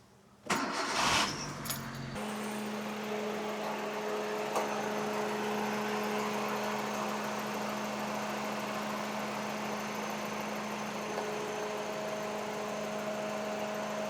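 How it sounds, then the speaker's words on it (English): A car engine is cranked and catches after an oil service, giving a brief loud starting burst and then a steady, even idle hum that runs without a break, with nobody talking. "So we'll just turn the car on."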